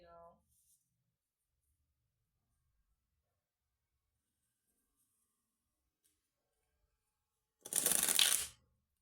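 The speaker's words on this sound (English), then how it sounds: "Some cards are easy to shuffle, other cards are not so easy." After a short voice and a long near-silence, a single quick burst of tea leaf reading cards being riffle-shuffled rattles up close for about a second.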